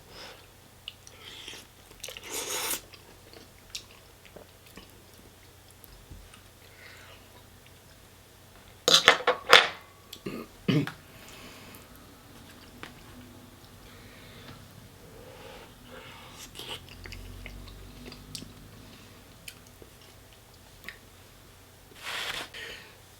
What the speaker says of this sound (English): let's give the Tesco's, the middle priced one, Tesco's own brand middle priced, a taste